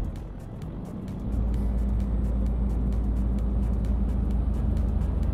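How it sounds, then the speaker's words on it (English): A truck engine in Euro Truck Simulator 2 strains up a hill, a deep steady drone that grows heavier after a second and holds loud and close with no talk over it. "Our truck can barely chug up this hill."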